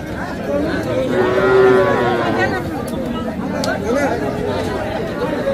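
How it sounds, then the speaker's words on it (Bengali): Young calves moo loudly at a busy Bangladeshi cattle market over steady crowd chatter. Nearby voices talk throughout. "এই পাশে আরো কিছু পালন উপযোগী ছোট ছোট বাছুর আছে"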